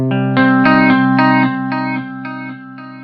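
An electric guitar through a Line 6 Helix digital delay plays a handful of picked notes and chords, each repeating and smearing into a shimmering, echoing tail that fades over a few seconds.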